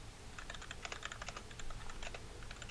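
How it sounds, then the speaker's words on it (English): Quick, uneven clicking of fingers typing on a computer keyboard, close and fairly quiet, with short bursts of keystrokes over a low steady background hum. "I'm typing in the chat for them."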